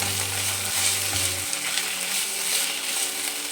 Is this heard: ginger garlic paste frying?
yes